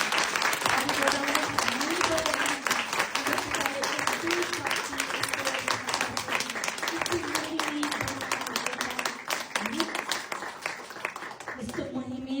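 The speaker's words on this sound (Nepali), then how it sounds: "अझै एकचोटि जोडाले ताली बजाउनु।" Congregation at a Nepali Christian worship service applauding together, a dense, sustained wash of many hands clapping that fills the whole stretch and fades slightly toward the end.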